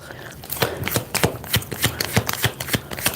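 Tarot cards shuffled by hand, a run of crisp riffling bursts repeating in a steady rhythm, close and fairly loud with no talk over them.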